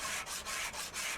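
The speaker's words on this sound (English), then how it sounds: "will kind of do this sanding process for you, the buffing and everything like that" Steady rhythmic rubbing of sandpaper across a car body in a car dealer simulator game, soft and even with brief dips between strokes, no voices.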